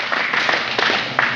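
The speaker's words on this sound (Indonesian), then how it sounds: "Tepuk tangan buat dia." A congregation claps during a Christian sermon, a short burst of scattered, mid-level hand claps lasting about a second with no talking over it.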